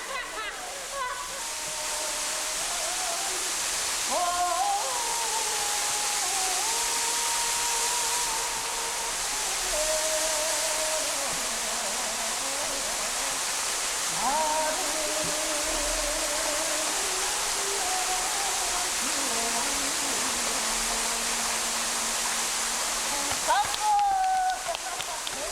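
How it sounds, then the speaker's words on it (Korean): A waterfall in autumn at Ulju, Ulsan, pours into a clear pond, making a steady, loud broadband rush of falling water that runs throughout, with a faint melodic line drifting over it. "폭포의 시원한 물줄기와 연못의 맑은 물이 어우러져"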